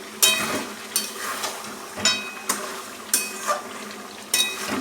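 Mutton curry with potatoes fries in a pan while a spoon stirs and scrapes at a steady rhythm, about eight distinct strokes over a soft continuous sizzle, close and moderately loud, with no speech.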